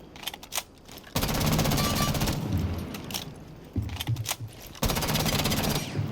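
Automatic F2 rifle fire in Rainbow Six Siege on the shooting range: a few single shots, then loud sustained bursts with brief pauses between them, close and dominant with no talking.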